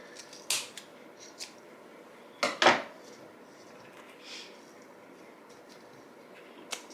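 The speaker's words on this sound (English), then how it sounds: "And then I'm gonna have to trim this little end off here." Scissors trim a small end off a Dollar Tree craft pallet sign for Valentine's Day, making a few sharp close snips and clicks separated by quiet pauses.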